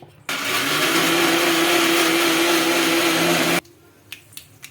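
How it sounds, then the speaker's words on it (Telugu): A kitchen mixer grinder whirs loud and steady for about three seconds, grinding coriander chutney with water, then cuts off abruptly, leaving a few faint knocks afterward. "చట్నీ అయితే మిక్సీకి అయితే గ్రైండ్ చేసుకోవడమే కొద్దిగా కొత్తిమీర వేసి గ్రైండ్ చేసుకోవడమేనండి"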